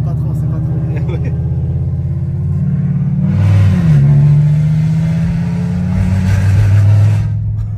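A car engine drones low and steady, then revs up sharply in a rising surge partway through, holds a loud rumble, and eases off near the end.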